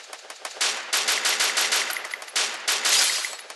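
Rapid bursts of automatic gunfire in the mobile shooter Garena Free Fire, several short volleys of sharp, close, crackling shots fired in quick succession with brief gaps between bursts.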